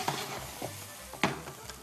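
Coarsely chopped onion frying in a wide pan, a steady sizzle broken by a few sharper crackles and stirring scrapes, close and moderately loud with no talk.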